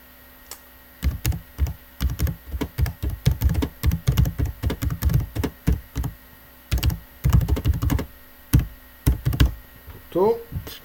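Computer keys clatter in fast, uneven bursts close by, with short pauses between runs of keystrokes and a brief voice near the end.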